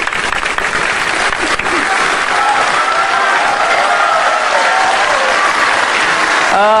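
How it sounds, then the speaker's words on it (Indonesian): Loud, sustained applause from a large audience at a televised Indonesian presidential debate between Jokowi and Prabowo, dense clapping filling the hall without letup. "Silakan berikan tepuk tangan."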